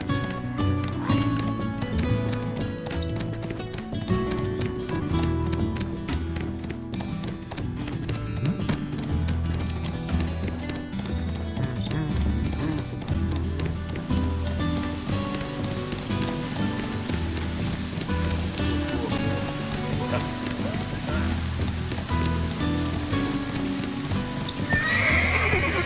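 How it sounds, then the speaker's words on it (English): Horse hooves thud steadily while a horse whinnies and snorts in the game Black Desert Online, over a constant rain-like hiss, with no talking. "my horse must be really fatigued. It's fighting with me."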